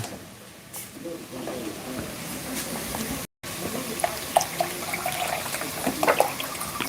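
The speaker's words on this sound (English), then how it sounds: "we're going to add in our chicken stock" Chicken stock is poured into a pan during home cooking of a comforting dinner, a soft trickling splash with light sizzle and clinks, close and moderate, with some background noise.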